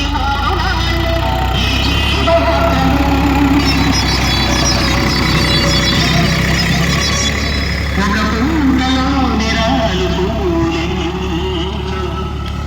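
A tractor engine drones steadily and loudly as it pulls three ploughs across a five-acre village farm field, a continuous close hum with faint voices underneath.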